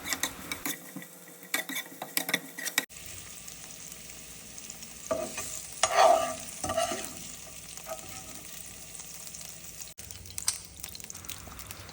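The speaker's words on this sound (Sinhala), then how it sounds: "දැන් මම ආලු මිරිස් ටිකක් බැද ගන්නවා." Capsicum frying in oil in a pan while making fish pickle, a soft steady sizzle with occasional stirring scrapes and clinks of utensil against the pan, fairly quiet throughout.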